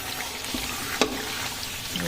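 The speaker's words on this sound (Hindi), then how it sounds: "मेथी भूनती जाएगी अच्छी" Fenugreek seeds roast in a pan for traditional methi laddu, giving a soft, steady sizzle with faint scraping as they are stirred, close by and with no talking.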